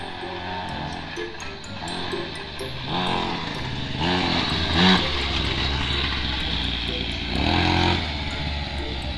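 A homemade go-kart driven on a concrete surface, its small engine buzzing and rising and falling in pitch as it revs, steady and fairly close, with no speech over it.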